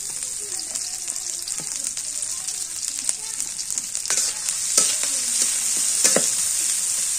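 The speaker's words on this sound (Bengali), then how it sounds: "তেল দিয়ে দিই, কড়াই তাওয়াইছে। কাঁচা মরিচ আর পেঁয়াজ দিয়ে দিই।" Green chilies and onion frying in hot oil in a heated wok, a loud continuous sizzle close by, with occasional clinks and scrapes of a spatula stirring through it.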